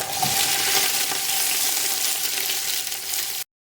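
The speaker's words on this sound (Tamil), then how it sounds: "இப்போ நான் நம்ம கட் பண்ணி வச்ச ஆனியனை கட் பண்ணிக்கிறேன்" Onions sauté in hot oil in a pan for country chicken biryani, a dense steady hiss of sizzling that stops abruptly after a few seconds.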